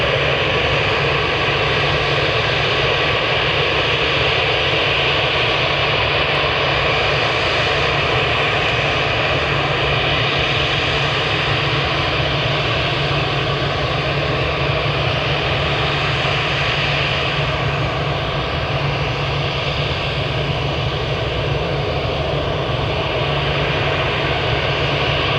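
A 28-year-old airliner at Manchester Airport gives a sustained, loud jet roar with a steady broadband rumble and whine, unchanging and close, with no voices.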